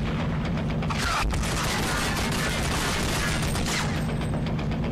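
Dense gunfire in the Army of Two video game, with continuous rattling shots and sharp reports over a loud, unbroken combat din, and no talking.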